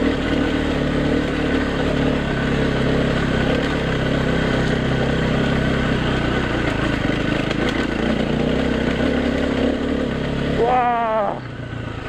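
A KTM EXC-F dirt bike ridden on a gravel forest road in Okutama, Japan, droning steadily up close with constant engine hum and rattling, wind noise throughout, and a rider's voice near the end.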